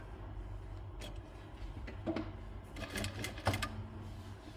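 Sewing machine stitching the folded-over hem of a baby frock, a soft busy mechanical whirr with a few light ticks and clicks, steady and fairly quiet with no talking.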